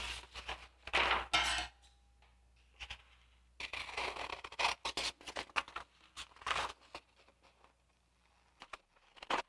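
Scissors cutting out a paper knife-profile template in a workshop, with irregular snipping and rustling paper, a couple of sharper clinks, and intermittent louder bursts close by, without talk.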